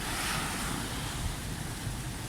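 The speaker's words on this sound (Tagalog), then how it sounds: "Lakas ang dagat." A dense, steady roar of rough surf with wind buffeting the microphone, continuous and loud with no break.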